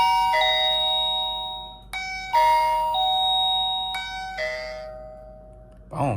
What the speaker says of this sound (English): press this button so it can chime and be paired